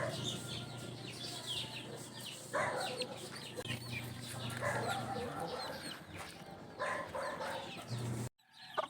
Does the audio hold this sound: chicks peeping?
yes